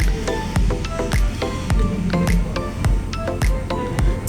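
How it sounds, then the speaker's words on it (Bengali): Thick Bengali payesh rice pudding being stirred in a pot, a run of wet squelching, sticky plops and spoon knocks at an irregular pace, close and distinct. "এভাবে ভালো করে নাড়াচাড়া করবেন"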